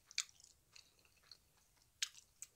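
Close, wet chewing of Jjapaghetti black-bean noodles, with a few crisp smacking clicks spread across the moment and no talking.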